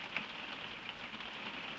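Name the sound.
rain falling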